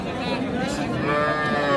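A local-breed cow with a calf gives a single, loud, close moo at the Raniganj cattle market in Ghoraghat, Dinajpur, over a background murmur of the crowd.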